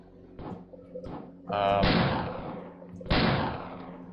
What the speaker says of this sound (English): the gunshot sound isn't great. It's just like a little like pew, pew